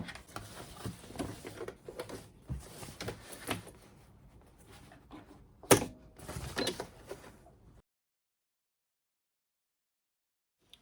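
A domestic sewing machine topstitches a mini thermal bag with quiet, uneven mechanical whirring and clicking bursts and one sharper clack, then it stops and the rest is silent.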